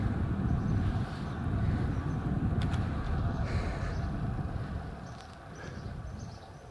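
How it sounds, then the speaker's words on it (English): Outdoor wind buffets a lavalier microphone, a loud, heavy, low rumbling roar that swells and dips unevenly throughout with no voice heard. "especially when I'm going against the wind like this"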